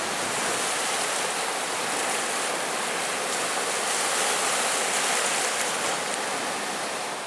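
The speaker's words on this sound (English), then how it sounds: "Listen to that all night with that rolling in waves on the shore." Lake Superior waves rolling onto the shore on a windy fall day, a steady, broad wash of surf with no break and no voices.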